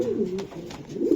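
Racer pigeons cooing close by, a few soft low throaty coos rising and falling in a short burst, with faint background sound.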